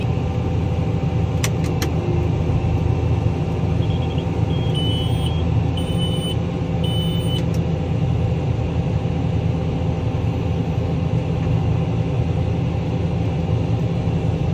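A tractor drives slowly while pulling a new Case IH pull-type planter, giving a steady low engine drone throughout. A few brief high electronic beeps from the cab cut in midway.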